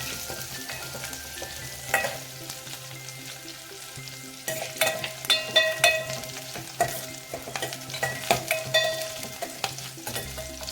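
Garlic, dried red chili and curry leaves frying in hot oil, a steady close sizzle with scattered crackles and pops, louder spurts as the pan is stirred, no voices.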